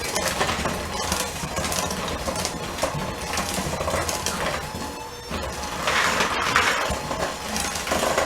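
An electric hand mixer's beaters churn through cookie dough, giving a steady, loud, gritty whir with clattering scrapes that runs throughout.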